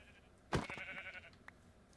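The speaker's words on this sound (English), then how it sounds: "Here's some sheep." Sheep in the Minecraft video game give a single loud, wavering bleat about half a second in, followed by a faint second call and quiet game ambience.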